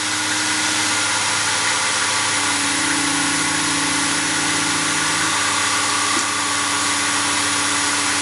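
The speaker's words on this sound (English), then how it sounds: "I'm going to start the lathe slow and work the speed up." A woodturning lathe runs at about 1500 RPM with a steady, loud motor hum and whine that continues unbroken. No one talks over it.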